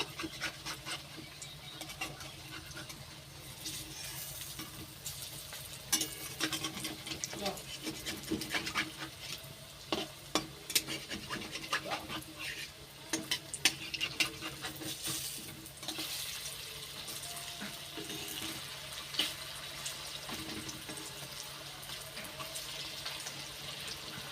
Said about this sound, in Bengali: এইবার এক একটা করে বড়া দিয়ে ভালো করে ভেজে নেব।